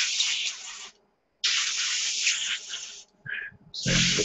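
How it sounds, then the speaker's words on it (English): An airbrush on a 1:72 Tamiya SU-34 model build sends out sharp hissing blasts to clear its nozzle, two long bursts split by a pause, then a short sputter and another burst, close and loud. "we're going to spray it with a blast, clean out the nozzle a bit"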